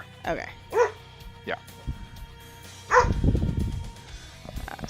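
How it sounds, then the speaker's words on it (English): Dogs in a house bark and yip in short bursts during a tabletop game session, with one excited dog louder near the end, mixed under nearby conversation. "Sorry about the dogs."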